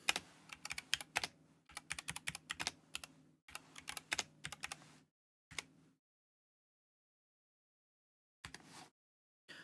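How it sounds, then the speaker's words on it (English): Fast, crisp typing on a computer keyboard in bursts of rapid clicks, close and clear, broken by pauses and a long silence before a final short flurry. "let me try typing this out"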